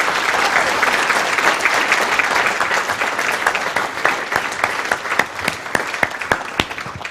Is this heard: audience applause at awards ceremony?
yes